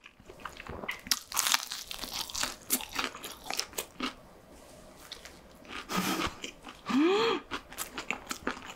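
Close-up chewing of rose chicken and white chicken pizza: soft wet bites and crunchy chomps come in irregular bursts, with one louder crunch near the end, intimate and quiet, with no talking.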